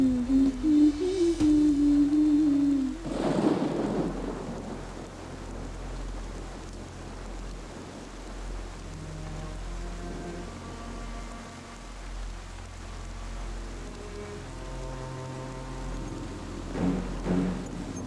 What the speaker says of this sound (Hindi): ये बारिश भी रुक नहीं रही है।